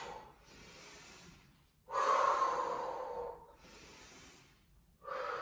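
Deep, slow breaths during a Pilates squat exercise: a long, soft exhale, then a louder, rushing inhale, another gentle exhale and the start of a fresh breath, close and alone with no talk.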